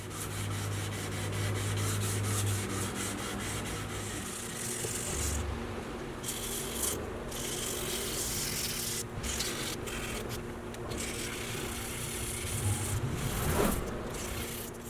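Hand sanding a guitar finish with sandpaper worked through 220 up to 2500 grit, continuous close scratchy rubbing strokes with brief pauses between passes, no talking.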